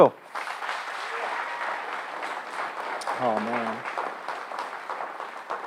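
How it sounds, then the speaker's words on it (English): Applause for the graduating class of 2022 at a high school senior awards night, a sustained wash of clapping from the audience with a brief spoken exclamation and some voices mixed in. "give a round of applause to all the graduating class for 2022"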